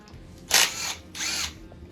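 A power tool backs a bolt out of a 5.3 LS engine during teardown, giving two short, close whirring bursts with a brief pause between them and no talking.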